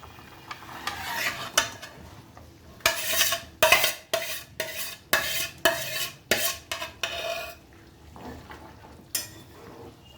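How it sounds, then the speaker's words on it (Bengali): Fried brinjal and fried papda fish slid into boiling curry in a pan, a series of close, irregular clattering scrapes and splashes in quick bursts, then quieter bubbling. "এরপর আমি আস্তে আস্তে বেগুন ভাজা আর মাছ ভাজাগুলো ছেড়ে দেবো"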